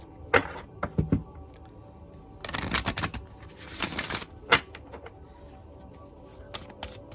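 Tarot cards are riffled and shuffled in short bursts: a few quick flicks, then a longer papery ripple, followed by scattered soft taps.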